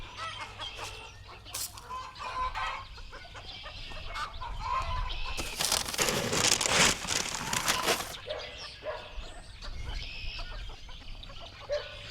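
Small Silkie chickens clucking and murmuring nearby, with a louder burst of rustling noise in the middle; no talking.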